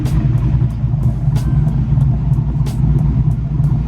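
Ford Mustang SN95 V8 with an E303 camshaft idling in a steady, deep rumbling drone with a slightly uneven lope, loud and close, with faint ticking clicks over the top.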